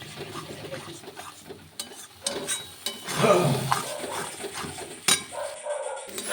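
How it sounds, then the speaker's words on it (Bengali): Green pea paste with fennel is stirred in a pan, the spatula scraping and knocking in bursts that grow busier midway, with a sharp clatter near the end. "এবার ভালো করে আবার নেড়ে চেড়ে মটরশুঁটির পেস্টটাকে শুকনো শুকনো ভাব করে নিতে হবে।"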